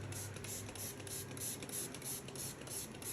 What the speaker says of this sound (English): we want to foliar the plant and spray the whole plant